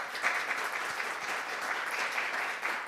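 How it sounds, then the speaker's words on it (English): Round of applause from the audience at a business forum for the panel after their discussion, a full and even wash of clapping that continues without a break. "So please give them a big round of applause."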